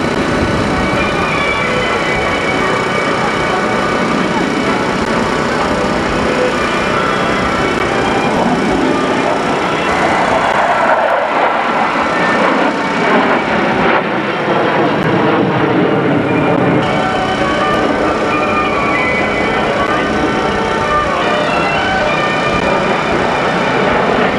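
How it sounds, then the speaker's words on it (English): Two solo jet aircraft fly an opposing knife-edge pass at the 1986 Daytona Beach air show, a loud, continuous roar that swells and shifts midway as they cross, with no talk. "the solos are setting up the opposing knife edge pass"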